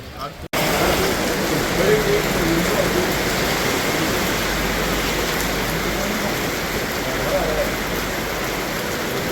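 Heavy rain pours outside a movie theatre, a dense, steady roar of downpour striking surfaces, loud and unbroken for several seconds after a brief quieter moment at the start.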